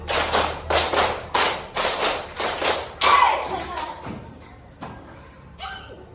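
Fourth-grade pupils clap together in a rhythmic classroom pattern: a steady run of sharp, loud group claps for about three seconds, then a few scattered, fading claps with faint voices.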